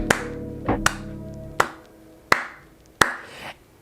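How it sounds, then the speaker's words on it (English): Five sparse, spaced-out claps, each a single sharp crack with short ringing after it, played alone with no talk around them. "just starts clapping out of nowhere"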